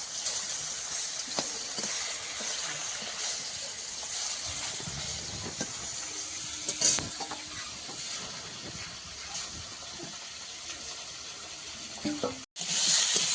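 Fish, a large fresh koi, sautés in its spicy gravy in a pan, giving a continuous hissing sizzle with occasional faint clinks and no talk.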